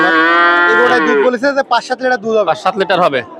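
A cow gives a long, loud moo close by at a cattle market, followed by a person talking.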